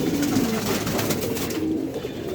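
Damascene red checker pigeons coo softly and repeatedly at close range over a dense background hum.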